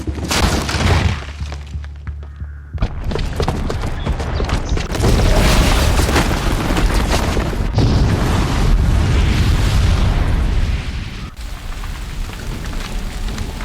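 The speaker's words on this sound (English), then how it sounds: "the booby trap on the bomb downstairs is gonna get set off" A booby-trapped bomb goes off in Horizon Zero Dawn, a heavy booming blast followed by a long, dense roar of crumbling, shattering debris that stays loud and close for many seconds.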